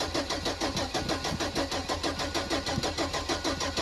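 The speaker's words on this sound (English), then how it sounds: "Just pump on the gas when I start it." Saturn car engine cranking over in a fast, steady rhythmic chug under a loud starter, close and continuous, with no clear catch into idle.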